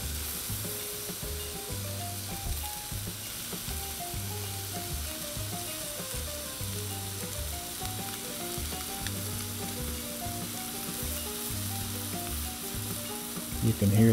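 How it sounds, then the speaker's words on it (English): Chicken fajitas sizzling with lime juice on a Blackstone 22-inch griddle, a steady loud frying hiss running close and continuous, with a faint scraping of stirring and no talk. "You can hear that sizzle."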